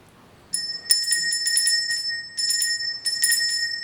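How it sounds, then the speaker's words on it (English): A large bell rung by two people pulling its rope gives a series of clear, ringing metallic strikes in uneven bursts, each sustaining a bright tone, fairly close and loud with no talk. "this is what it looks like when two living people ring the bell."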